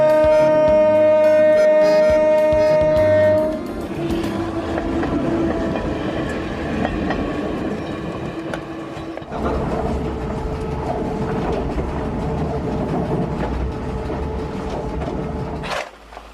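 An electric train still in regular service runs along the tracks, its wheels rattling over rail joints in a steady rolling clatter that rises and falls as it passes, with no speech.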